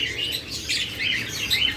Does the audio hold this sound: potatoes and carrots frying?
no